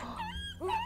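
A dog gives a couple of faint, high whimpering whines, short and plaintive, heard quietly over a low background hum.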